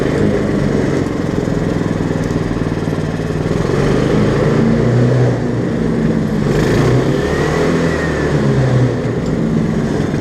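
A 1959 Case 700 tractor repowered with an 11hp Honda engine runs steadily at a constant, loud drone, heard close up with no talking.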